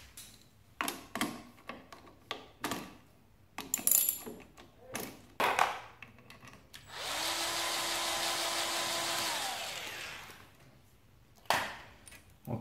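A 10 mm wrench loosening bolts on a Yamaha WR250F dirt bike, with a series of close metallic ratchet clicks and clanks in irregular bursts and a sustained whirring tool run in the middle, with no talking.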